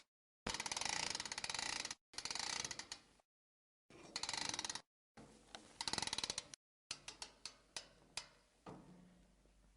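A hoof trimming chute clanks and ratchets as it locks and winches up a cow's back leg: bursts of metallic grinding cut by pauses, then a series of sharp clicks, close and alone.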